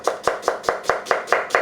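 An onion is chopped with a knife in a home kitchen: eight crisp, evenly spaced chops come in a quick steady rhythm, close and clear, with no talking.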